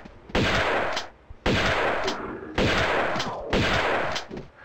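Four loud, evenly spaced shotgun blasts in Tomb Raider 2, each a booming crack with a short decaying tail, fired alone with no talk.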